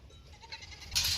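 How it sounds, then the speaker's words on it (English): Goats bleat from a farm pen holding six or seven animals, a short, fairly quiet burst with a harsher cry near the end over low background rumble. "there's 6 or 7 goats in that pen over there"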